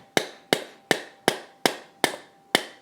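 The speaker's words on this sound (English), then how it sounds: "I'm going to have to actually hammer that into this other side too" Parts of an Anet A8 3D printer are hammered together during assembly, seven sharp, evenly spaced strikes in a steady rhythm, each a crisp close knock that quickly fades into near silence before the next.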